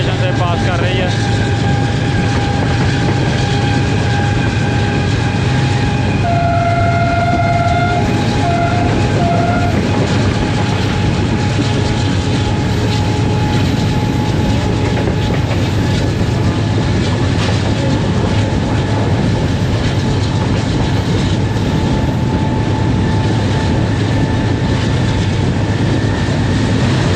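A Karachi Express train, hauled by a Blue Tiger locomotive, rolls through Multan City railway station with a loud, steady rumble of wheels and engine drone, sustained tonal hums and whines running across the whole stretch.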